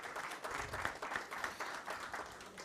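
A room of attendees at a government report launch on tax crimes gives a second, renewed round of clapping, a soft, steady patter with slight rhythmic swells heard from a distance.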